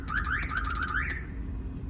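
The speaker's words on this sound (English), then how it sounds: "this is a button that I install for a siren." A short electronic siren fitted inside a Toyota 4Runner chirps and warbles in rapid rising sweeps for about a second, then stops, leaving a low background hum.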